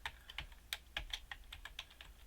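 Password being typed on a computer keyboard: a quick, irregular run of crisp, close key clicks over a quiet background, with no voices.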